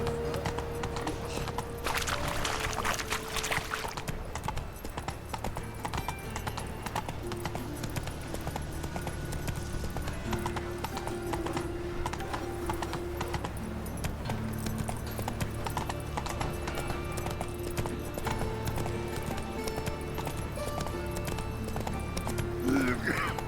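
Hooves of Geralt's horse Roach clop steadily through a long game scene from The Witcher 3, a constant rhythmic gallop under background music, voices speaking over it at times and a brief whinny.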